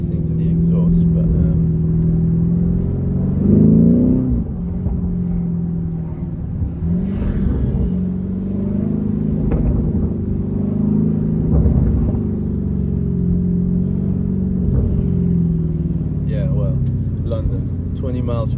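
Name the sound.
sports car exhaust while driving with window down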